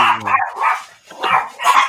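Several dogs bark and yip in short loud bursts, alternating with brief pauses, close by with no talking.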